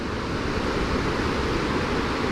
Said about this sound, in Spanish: Está brutal esa cascada.